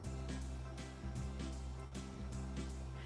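A keyboard's automatic waltz rhythm accompaniment on its alter setting gives a light jazz flavor: steady sustained chords with an even, repeating beat pattern, played alone at moderate volume.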